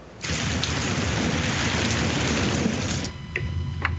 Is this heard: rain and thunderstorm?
yes